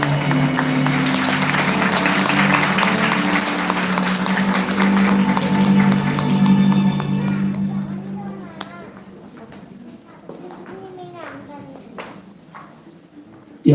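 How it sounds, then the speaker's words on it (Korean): Wedding guests in a church applaud as the couple bow to each other: a dense wash of clapping for about eight seconds, mixed with a low sustained tone and voices, then thinning into quieter scattered sounds. "인사하실 때 크게 박수 해주세요."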